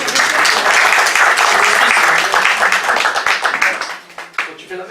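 Audience applause at a poetry evening in Brie-Comte-Robert: dense, loud clapping from a crowd that holds strong, then thins into scattered claps and fades toward the end.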